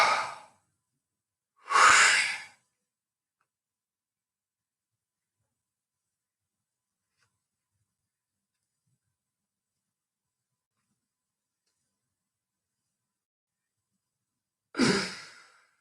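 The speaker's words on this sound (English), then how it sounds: "Passive exhale, small forced exhale towards the end." Breath-hold training exhales: two short bursts of breath near the start, then a long silence, then one more brief exhale at the end, each close and clear with no talk.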